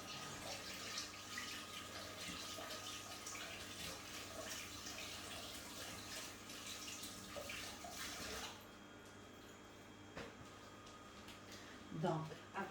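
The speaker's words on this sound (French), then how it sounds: "Là, je vais juste rincer mes mains." Tap water running steadily over hands being rinsed at a sink, a continuous close splashing wash that thins out toward the end, with a faint clink near the finish.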